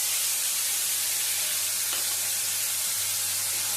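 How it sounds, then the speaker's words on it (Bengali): Onion paste frying in hot oil tempered with cumin and a bay leaf, a dense continuous hiss and sizzle heard close and unbroken throughout, with no voices. "পেঁয়াজের পেস্টটা দিয়ে পেঁয়াজটা ভালো করে নেড়ে চেড়ে নেবো"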